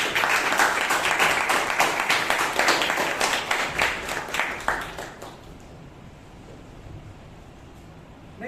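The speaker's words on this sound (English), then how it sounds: "Let's give a big round of applause to Toastmaster Surya Prakash" A crowd at a Toastmasters meeting in Bangalore applauds with steady, dense clapping for about five seconds, then it fades out into quiet room noise.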